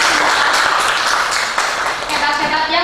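Applause in a classroom lesson on nursing care, a dense, continuous wash of hand claps that holds steady and loud throughout.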